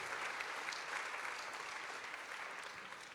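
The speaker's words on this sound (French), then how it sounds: "Vous pouvez applaudir." Audience applause at a corporate conference on sustainable development, a steady wash of many hands clapping, moderately distant and slowly fading toward the end.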